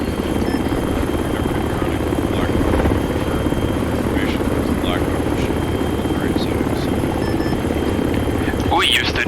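Military helicopter rotor and turbine noise, from a Ranger and 160th SOAR training exercise, drones loudly and steadily throughout, with people talking faintly beneath the constant roar.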